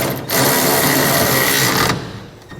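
A power tool with a 3/4 inch socket runs down bolts on a B and W 5th wheel trailer hitch on a 2012 Ram 2500, one loud sustained whirring burst lasting under two seconds.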